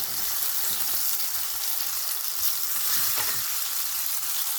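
Chopped tomatoes frying in a pan for Manchurian gravy, a steady, dense sizzle that holds at an even level throughout, close and fairly loud, with no voices.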